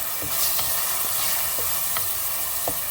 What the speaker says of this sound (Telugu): బ్రౌన్ కలర్ వచ్చే వరకు ఆనియన్స్ వేగనివ్వాలి